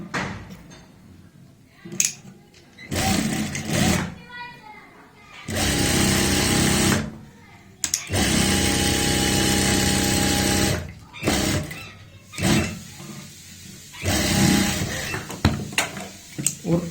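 Several bursts of electric sewing machine stitching on a kurti, some short and some several seconds long, rattling loudly and close, separated by pauses with handling noises and occasional talk.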